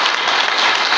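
A church congregation at a retreat applauding and cheering for Jesus, a dense, loud, continuous burst of clapping filling the room.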